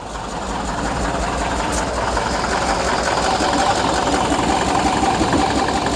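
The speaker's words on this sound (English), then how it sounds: "All right, so we're gonna go ahead and turn this on. The AC is on now." An electric air conditioner running inside a classic VW Bug, a steady loud mechanical hum and buzz that holds evenly throughout with no pauses.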